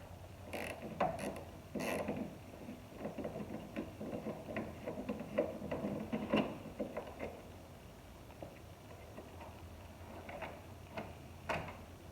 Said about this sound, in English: You can get an extension with a wobbling, and you can get that nut off the top of that head bolt.